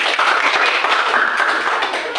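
A class of students claps their hands together for a correct answer in an Islamic studies lesson, rapid uneven claps close and steady for about two seconds, no talking.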